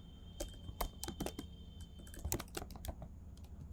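Code typed on a computer keyboard: a steady run of quiet, sharp key clicks in irregular bursts, each keystroke distinct against a low background hum, no speech.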